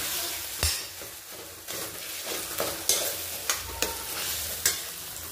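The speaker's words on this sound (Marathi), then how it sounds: "हे या पद्धतीने मिक्स करून घ्यायचं।" Spiced eggplant bharit, village style, is stirred in a pan over a lowered flame, giving a series of scraping, clacking spoon strokes against the pan over a soft background sizzle.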